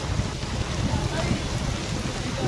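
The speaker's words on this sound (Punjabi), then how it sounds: "ਆਹ ਕਿੰਨਾ ਮੀਂਹ ਆ ਗਿਆ ਬਾਬਾ ਮੀਂਹ ਬਾਲਾ ਪਈ ਜਾਂਦਾ ਹਜੇ ਵੀ ਪਈ ਜਾਂਦਾ" Heavy rain pours steadily and close by in a flooded town in Punjab, a dense unbroken wash of drops with faint speech-like murmur underneath.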